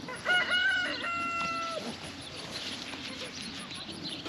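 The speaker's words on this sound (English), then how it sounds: "My mom has named this rooster Majestic." A garden rooster crows once, loud and close, with a long wavering call, followed by a steady outdoor background hum.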